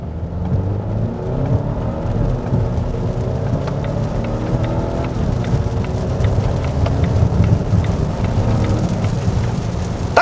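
A Volvo XC90 B6 mild-hybrid SUV with an electric supercharger accelerating under throttle, heard from inside as a steady low engine and road drone with faint rising tones, no voices.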